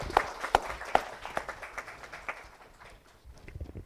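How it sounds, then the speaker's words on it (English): Scattered applause for award winners at a conference convocation rings out, a few loud claps at first, then lighter clapping that gradually thins and fades. "a huge round of applause for all the winners"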